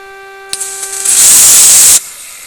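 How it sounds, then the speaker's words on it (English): Aerosol cleaner sprayed onto a transistor inside a Tec Orbiter Expo portable radio, a loud steady hiss lasting about a second after a few small clicks and handling sounds, close up, with no talking. "So first I'm going to spray the transistor."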